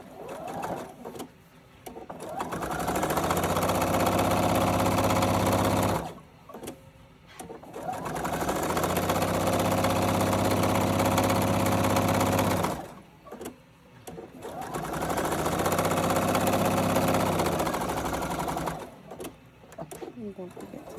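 A sewing machine runs in three long bursts of steady whirring stitches on a drawstring backpack, with short pauses between runs.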